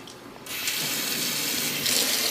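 A tap turns on and warm water streams steadily into a sink while cleaning a clearomizer, a close, continuous rushing splash that grows slightly stronger toward the end.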